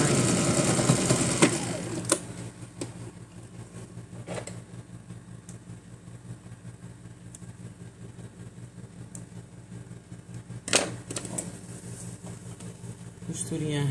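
Sewing machine topstitching a skirt, a steady close mechanical whir running throughout with a few sharper clicks and bumps of handling.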